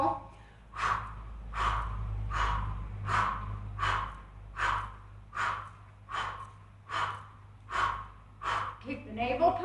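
Forceful rhythmic breathing exercise in a chair yoga session, about ten sharp, evenly spaced breath pumps close to the microphone, each a short loud burst of air driven from the navel.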